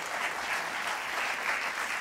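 Steady, dense applause fills a church congregation's welcome for guest speaker Pastor Anthony at a midweek service, an even wash of many hands clapping at a consistent moderate level with no voices standing out.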